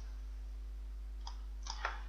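A computer mouse clicks a Next button in a Facebook dialog: a few faint, sharp clicks near the end over a quiet, steady electrical hum.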